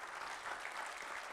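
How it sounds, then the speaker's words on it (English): Quiet, distant round of applause from a conference audience for the event team, a continuous soft patter of many hands with no speech on top. "So a quick round of applause for those fine folks."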